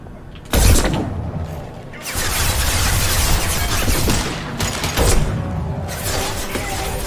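Gunfire from the video game Mass Effect 2 comes as heavy, booming shots and sharp blasts at close range, several loud bursts with a rumbling tail between them.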